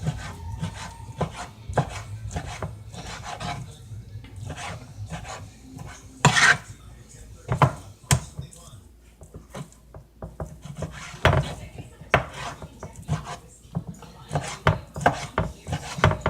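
Knife chopping food on a wooden cutting board while preparing spinach eggplant chicken, a steady run of close, crisp thuds and taps with irregular rhythm, some louder strikes standing out, heard alone without talk.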